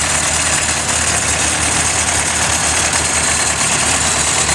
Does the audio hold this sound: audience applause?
no